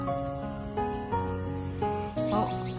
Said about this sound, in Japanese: セミも鳴いてる。